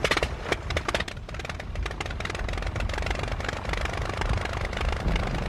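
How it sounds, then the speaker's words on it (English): A Blériot Model 11 monoplane with an Anzani engine, from the old Rhinebeck Museum in New York, runs with a loud, rough, rapidly pulsing engine clatter that stays steady throughout. "This Blériot, from the old Rhinebeck Museum in New York, has an Anzani engine similar to the one that powered Blériot's historic flight."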